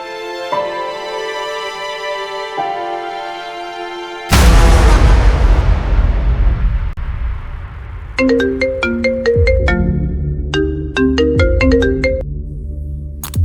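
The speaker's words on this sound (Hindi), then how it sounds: "एक फोन आ रहा है" A loud electronic phone ringtone plays a repeating melodic tune, interrupted midway by a deep booming crash, then the melody resumes.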